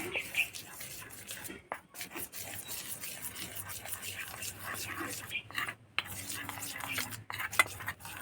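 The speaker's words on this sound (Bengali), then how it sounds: "এবার একটা বাটিতে নেব দু চামচ কর্নফ্লাওয়ার আর তিন চামচ সাদা তেল" A spoon scrapes and clinks around a bowl, mixing cornflour with white oil in a quick, uneven rhythm. The sound is close and moderately faint, with soft whispery rubbing and brief pauses between strokes.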